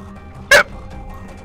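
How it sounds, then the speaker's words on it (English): A single short, sharp hiccup, loud and close, so abrupt it could pass for a small bark, against a quiet background. "Did someone just bark? No, I hiccup."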